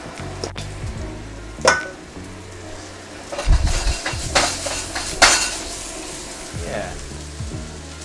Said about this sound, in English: here's my noodles going in